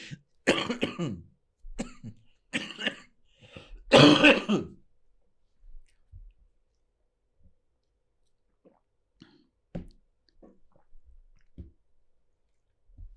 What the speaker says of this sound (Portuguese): eu tô com uma tossinha chata